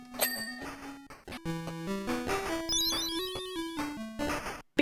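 Chiptune rendition of a song from the Sega Master System game Moonwalker, with a square-wave melody over a steady bass line, playing continuously and fairly loud with no talking.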